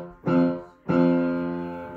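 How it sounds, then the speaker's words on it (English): Two keyboard dyads played on a pair of white keys pressed together, each struck once and left to ring, the second sustaining longer; clear and close with no talking. "we're going to start right here on these two white keys, and we're going to play them together"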